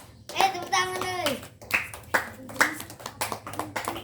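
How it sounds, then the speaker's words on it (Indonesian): An audience applauds at a school book fair and arts stage show, bursts of hand clapping rising and falling over several seconds, with a voice and other talk mixed in. "Tepuk tangan dulu."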